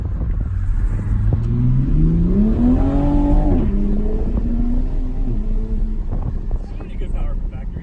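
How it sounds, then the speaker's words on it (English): A Toyota A90 Supra engine revs up in a rising pitch, then drops sharply as the auto-blip downshift fires, followed by a steadier lower drone under wind noise from inside the moving car. "It does the auto blip downshift."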